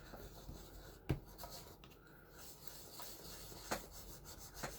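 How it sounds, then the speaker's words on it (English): Bone folder rubbed firmly over a paper card folio, giving faint close scraping and rubbing strokes with a few sharper taps, no talking. "I can take my bone folder and kind of rub it down in there."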